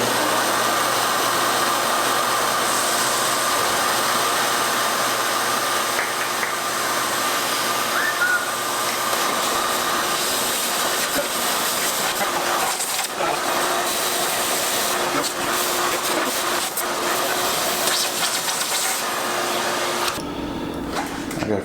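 An electric drill bores into the metal of a car transmission while a shop vacuum held close runs continuously to suck up the chips, a steady loud whirring roar that stops near the end.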